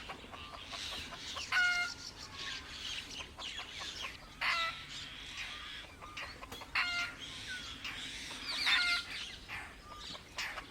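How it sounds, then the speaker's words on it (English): Red jungle fowl in Kaziranga National Park, Assam, give repeated clucking and crowing calls at moderate distance over a faint outdoor background, several call bursts spread across the span, no speech. "our very first sighting for the day is a red jungle fowl."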